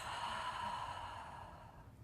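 A single long, deep exhale during a yoga breathing exercise, steady and close, lasting about two seconds with no talk over it.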